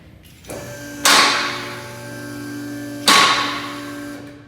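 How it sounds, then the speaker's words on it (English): Lifting a vehicle on a two-post hoist sets off loud metallic bangs as the safety locks engage: two sharp clanks about two seconds apart, each ringing out over a steady motor hum. "As you can hear that loud bang noise, that is your safety lock."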